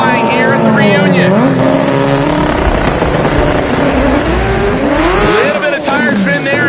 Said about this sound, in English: Tire spin there